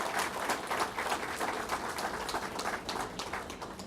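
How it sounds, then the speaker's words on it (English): An audience at a Superstorm Sandy recovery completion event in Montague applauds FTA Regional Administrator Marilyn Shazor, with steady, dense clapping that holds at an even level throughout. "Let's give her a round of applause and thank her for her help."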